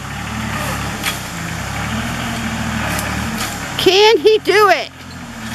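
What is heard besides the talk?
truck tire spinning in a log riding video game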